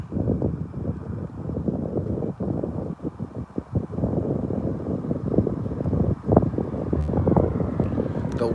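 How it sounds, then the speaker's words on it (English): Strong wind buffets an outdoor microphone at night during a lunar eclipse as a hurricane approaches, making a loud, steady rumbling roar with surging gusts throughout and no talk. "The wind just picked up"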